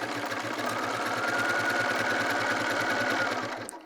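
Sewing machine running a wide zigzag stitch down the center of a dart on a quilted jacket, a loud steady mechanical whir with a fast regular pulse that slows and stops at the end.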